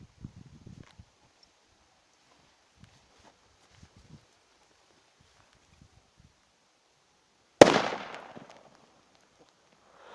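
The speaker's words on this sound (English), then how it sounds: "today we are gonna be testing a firecracker against the sack." A firecracker bursts inside a sack of sawdust with one sharp, loud bang that trails off over about a second, preceded by faint rustling and small handling noises and followed by quiet.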